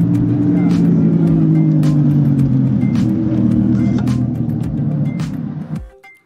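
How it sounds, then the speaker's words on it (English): A Lamborghini supercar pulls in at a Sunday supercar show in Orange County, its loud low engine drone holding steady close by with passing transients above, then cutting off abruptly near the end. "Bosscat Kitchen Pitstop Supercar Sunday gets Lamborghini joining."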